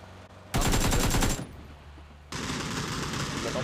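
Rapid bursts of automatic gunfire from a team shooter video game, one loud burst of about a second followed by a longer sustained volley, up close and with no talk over it.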